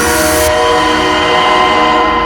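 A train in a 1963 horror film trailer roars loudly and steadily with a sustained horn-like tone over the rumble of rail cars. It stays dense and unbroken throughout, with no speech.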